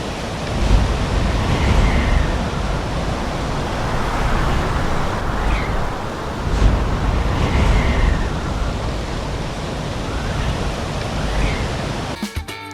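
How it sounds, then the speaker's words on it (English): Strong wind gusting outdoors over a pavement, a loud, steady roar of broadband rushing noise that swells and eases in slow waves for the whole stretch. "It's also difficult to resist a strong wind on the pavement."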